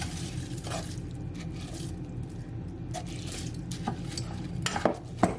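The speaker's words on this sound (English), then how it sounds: "You want to do mix it all in. So all that rice will soak up in the gravy." Long grain easy-cook rice being stirred into a chicken gravy in a pot, with soft wet squelching and scraping close by and a few sharper clinks of the spoon toward the end.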